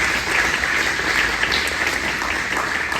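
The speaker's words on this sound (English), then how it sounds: "Let's give a big round of applause for our volunteers." Audience applause for volunteers at an amateur radio forum during Hamvention 2025, a steady, dense wash of clapping from a sizable crowd that holds evenly for about three seconds with no voices over it.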